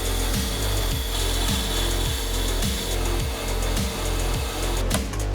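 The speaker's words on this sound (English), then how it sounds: "we're gonna machine both sides with a nice final finish cut" A brake lathe takes a light final finish cut across both faces of a brake disc, a steady loud metallic whir with a regular rhythmic pulse about twice per second, running alone without voices.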